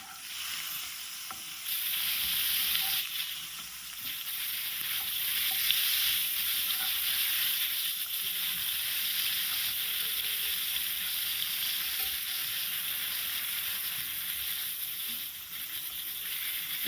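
Bengali-style spice paste for spicy brinjal jhaal, with chilli and tomato, stirred and fried in a pan, giving a steady close sizzle with faint scraping of the stirring throughout, no talk.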